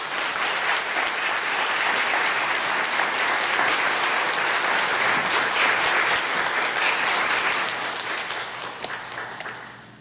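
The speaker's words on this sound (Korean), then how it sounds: "우리 영광의 박수를 올려드리겠습니다" Church congregation applauding a visiting pastor during a Korean worship service, a steady dense wash of clapping that holds loud for most of the ten seconds before gradually thinning and fading out.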